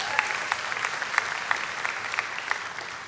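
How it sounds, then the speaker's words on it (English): A church congregation gives itself a round of applause, a dense, steady patter of many hands with a few sharper individual claps popping out above it, sustained and fairly loud throughout. "Give yourselves a round of applause."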